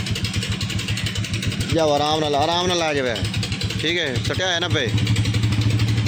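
A motorcycle engine idles steadily with a low, even mid-pitched putter, running continuously and close by beneath several people talking loudly over it.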